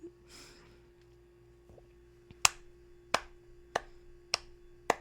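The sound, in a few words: hand clapping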